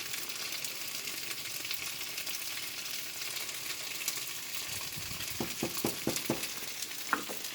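Potatoes and bouillon cook in a pot for soup with a steady, quiet sizzle and bubbling hiss, and a few soft scraping stirs near the end.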